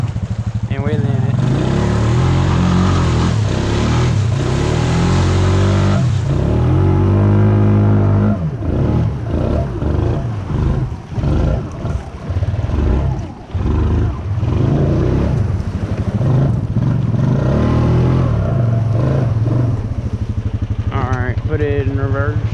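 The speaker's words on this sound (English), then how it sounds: "I'm just mashing the throttle real hard and hoping for the best." A motorcycle engine revs hard and continuously with the throttle mashed while doing wheelies through a creek, loud and close throughout with rising and falling surges; a voice speaks over it.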